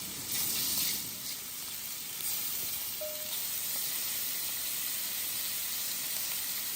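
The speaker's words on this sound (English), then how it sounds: "we are going to place our shrimp into the pan one by one" Shrimp sizzling in hot oil in a pan, a soft, even hiss that stays faint and steady, with a brief tonal blip midway and no voices.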